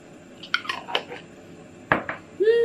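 Sauce for white cut chicken, oil with salt and sugar, is mixed in a bowl: a few scattered clinks and scrapes of utensil against dish, close and fairly loud, ending with a brief tonal squeak.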